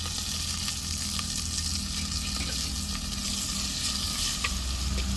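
Onion, curry leaves and garlic sizzle in hot oil in a clay pot for fish kulambu, giving a steady, close crackling hiss that continues without a break and with no talking.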